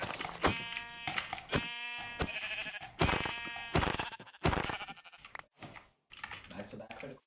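A sheep bleats in Minecraft's Caves and Cliffs update, several short wavering bleats rising and falling amid game sounds, with someone talking over them.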